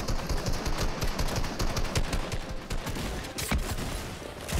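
Rapid gunfire from a Fortnite match: dense bursts of repeated shots crackle close and loud, overlapping in a fast uneven rhythm with no talk.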